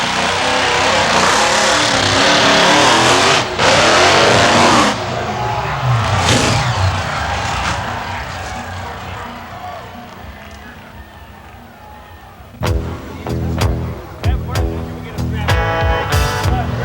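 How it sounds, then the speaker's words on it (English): Monster trucks tear across a stack of crushed cars, loud roaring engines and heavy crunching filling the scene, then a burst of sharp, rattling impacts near the end. "when the trucks go tearing across a stack of crushed cars"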